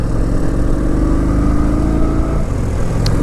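A Kawasaki Vulcan 900 motorcycle engine runs loud and close, a steady throbbing rumble with a slight dip and change in tone near the end.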